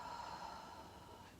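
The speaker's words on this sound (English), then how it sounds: "Inhale and exhale." A slow, deep inhale during a relaxed yoga session, a soft steady airy breath held close and quiet for over a second with no talk.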